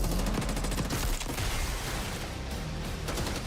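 Rapid automatic gunfire from hip-fired weapons in Black Ops 6, loud and close, with dense bursts of shots running almost continuously through a busy battle mix.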